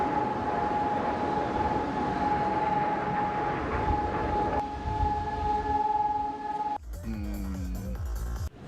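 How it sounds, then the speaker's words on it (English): A wailing air-raid siren holds a steady tone under a dense rumble, shifts pitch midway, then drops into a lower warbling wail near the end, loud and close. "There we go, siren time."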